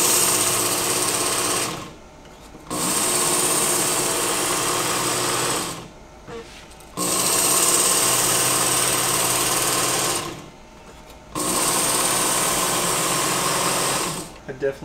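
A knife is sharpened in back-and-forth passes, with a steady mechanical whirring grind in three long stretches broken by short quiet pauses, and a person talking nearby.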